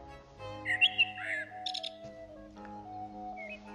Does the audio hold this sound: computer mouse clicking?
no